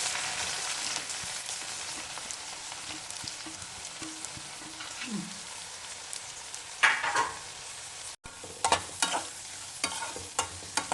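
Onions with raw ginger and garlic fry in oil over medium heat for a North Karnataka zunka, a soft steady sizzle with light scraping. Sharper stirring clatters of a spoon against the pan come in the last few seconds.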